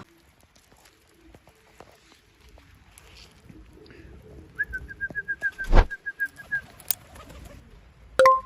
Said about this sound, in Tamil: அதுதான் நான் இப்போ போட்டுட்ருக்கேன் புறாக்கெல்லாம்